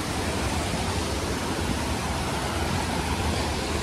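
Jibhi waterfall in the Himachal Pradesh hills, a steady full roar of rushing water that fills the whole stretch, loud and continuous with no letup.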